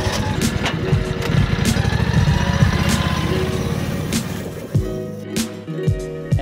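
A small engine-powered leaf blower clearing sand and leaves off a beach deck in St. Pete, Florida, a steady buzzing drone up close that drops to a choppier idle near the end.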